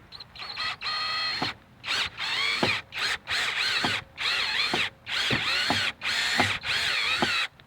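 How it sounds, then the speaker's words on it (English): A power drill bores out a broken bolt on a lawn mower muffler, running in loud, close bursts of whining and grinding that stop and restart about every half second to second, with no talking. "I drilled it just a little bit bigger, up to 7/32, and I feel like it's starting to go in a little bit here."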